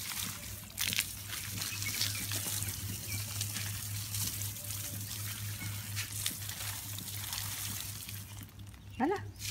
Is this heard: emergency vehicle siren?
no